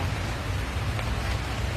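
Steady rain falls in a forest, a dense, even hiss of drops that stays loud and close throughout, with no voices.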